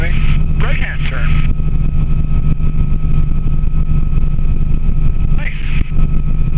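A Bell 47 helicopter climbing in a right-hand turn at about 45 mph, loud steady engine and rotor drone filling the cabin, with brief radio or intercom chatter over it.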